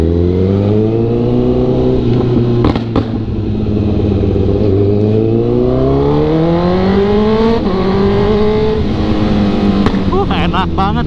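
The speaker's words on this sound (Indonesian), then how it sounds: "Enak banget ngegas pagi-pagi gini." A Kawasaki ZX-636 motorcycle revs on the throttle while riding in morning traffic, loud and close, its engine tone climbing and falling in repeated sweeping surges, with wind noise and brief sharp rattles near the end.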